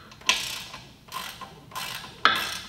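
A ratchet wrench loosens the handlebar clamp bolts on a GoPowerSports Rascal minibike, giving close, crisp bursts of rapid clicking in three or four short strokes with quieter pauses between.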